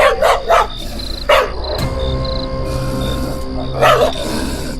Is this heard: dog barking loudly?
yes